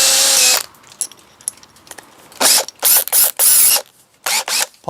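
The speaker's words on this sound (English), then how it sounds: "And all you do, drill the hole." A power drill whirs in several short bursts, loud and close, with brief pauses between each run as an 8mm bit bores through plasterboard.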